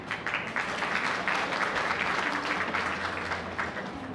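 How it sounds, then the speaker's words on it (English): Junior college teachers clapping together in a room, a dense, even patter of many hands sustained for several seconds, moderately near. "Now, only the junior college that teachers are clapping for her."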